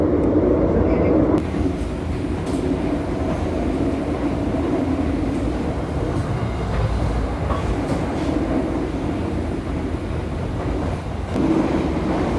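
The Argo Cheribon train rumbles steadily along the tracks at night, a constant low roar heard from inside an executive-class carriage with faint rattles throughout.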